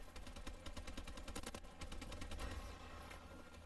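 Rapid automatic gunfire from a gun in Advanced Warfare, a dense run of sharp repeated shots that keeps up loud and steady across the whole stretch, with no talking over it.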